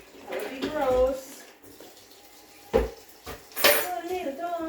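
Water sloshes and splashes as a bucket is scrubbed clean, with scraping and rinsing bursts at irregular moments, while a person talks over the washing.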